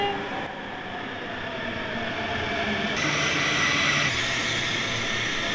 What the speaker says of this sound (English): It's our train.